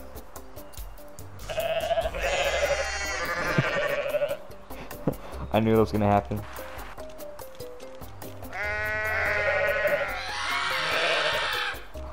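Goats in the video game Goat Simulator bleat and scream loudly in several long, wavering bursts, with a brief spoken remark between the calls.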